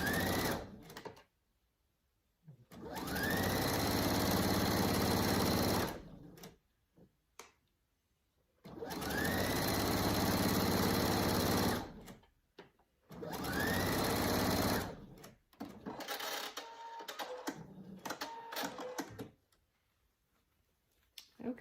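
Sewing machine stitching men's ties into a pillow at a 3/8-inch seam, running in three steady whirring bursts of a few seconds each with short pauses and light handling clicks between, close and clear with a person speaking briefly.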